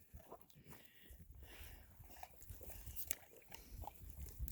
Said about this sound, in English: watching her eat her stick